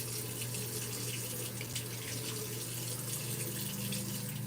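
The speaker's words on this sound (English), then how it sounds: "I'm gonna have to put water on it." Water runs steadily from a tap or is poured indoors, a continuous close hiss and splash with no voices.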